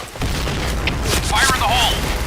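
A grenade goes off in the shooter game Point Blank, a loud booming blast with a rumbling tail lasting about two seconds, mixed with faint game effects and a brief voice.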